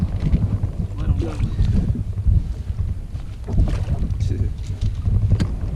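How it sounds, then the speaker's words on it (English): Wind gusts buffet the microphone outdoors on a fishing boat beside a bank while crankbait fishing, a rough low rumble that swells and fades in uneven waves throughout. "the wind is coming from behind us, hitting this bank right here"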